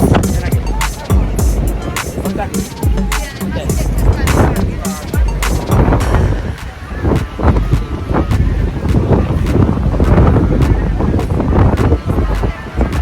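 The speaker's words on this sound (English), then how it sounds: "This wind is non-stop here at the windmills." Strong, constant wind buffets the microphone at the windmills on a Greek island, a loud rumbling roar with gusty bursts running the whole length, and no clear voices above it.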